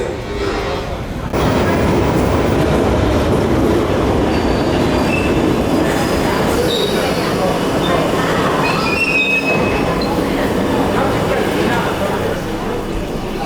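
A London Underground train rumbles loudly along the track with squealing wheels and rattling carriages, a steady roar throughout after a brief quieter start.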